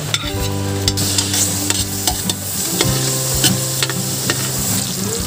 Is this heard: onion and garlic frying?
yes